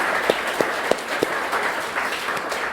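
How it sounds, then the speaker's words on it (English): Audience applause at an Advertising Week 2024 conference talk, a steady broadband wash of clapping through the whole stretch, with a few sharper isolated claps popping out early on. "Let's give the haters a round of applause, right?"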